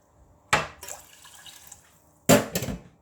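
Water is poured over lentils in a pot for cooking, two short splashing bursts of liquid hitting the contents, close by, with quieter trickling between them.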